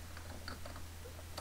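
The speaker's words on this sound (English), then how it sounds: "In the search box, I'm going to type restricted-extras" Quiet typing on a computer keyboard, a few scattered soft key taps over a steady low hum, entering a search term in a Linux Mint software manager.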